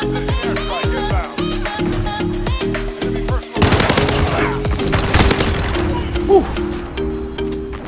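Rapid automatic gunfire in Call of Duty: Modern Warfare on Xbox, loud close bursts in rhythmic strings with a louder flurry midway and a player talking over it.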